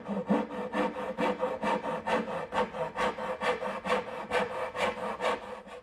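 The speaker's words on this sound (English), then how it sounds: "Now I'll finish cutting out my spinner, making the angled cuts with my little dovetailing saw" A small dovetail saw makes angled cuts in wood, about twenty quick, even rasping strokes in a steady back-and-forth rhythm, close and clear with no talk.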